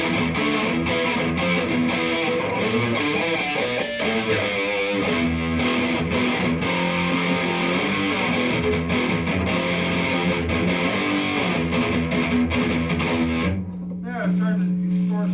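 An electric guitar plays through heavy distortion, a thick, crunchy stream of chords and notes that cuts out near the end, leaving one held tone.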